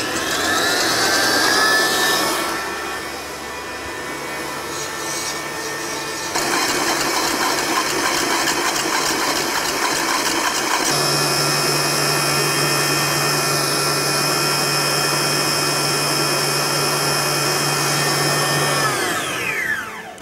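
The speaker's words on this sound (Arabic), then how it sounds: "هنحط بياض البيض وهنضربه لحد ما يبقى لونه ابيض وهش" An electric mixer whips egg whites for a biscuit cake until white and fluffy, a loud, steady whirring motor drone lasting throughout, its pitch shifting a few times as the speed changes.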